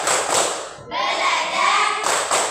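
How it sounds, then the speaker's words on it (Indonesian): Children in a classroom perform a rhythmic clapping chant, with sharp hand claps and thumps around a stretch of sung or chanted voices. "mari kita tepuk 3C"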